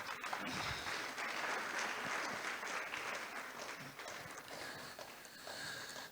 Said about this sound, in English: I think we need to give Prof a round of applause